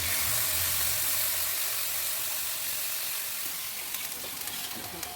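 Water poured onto spice paste frying in a pan for a taro stolon and tilapia curry sets off a loud, broad steaming hiss that slowly eases, with faint crackles near the end.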